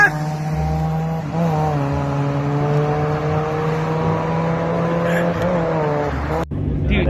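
Race between a 200-horsepower Hyundai Veloster Turbo and a naturally aspirated 2.4-liter Mitsubishi Lancer, with a steady loud engine drone and gear-rising tones, brief tire noise, and a sudden cutoff near the end.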